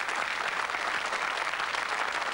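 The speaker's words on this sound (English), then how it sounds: "Give her another round of applause." An audience at a TV game show claps in a steady, dense round of applause that fills the short stretch with no talking over it.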